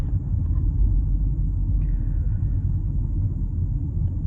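A 2024 Mazda CX-50 Meridian SUV with a 6-speed automatic accelerating, heard from inside as a steady low engine rumble and road drone, with no voices over it.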